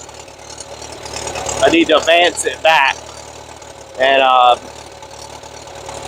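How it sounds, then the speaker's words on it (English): An overheating Bobcat skid steer engine idling at a steady low drone on a farm on a hot, humid Tennessee day, with someone talking over it in short bursts. "The engine may be running a little lean"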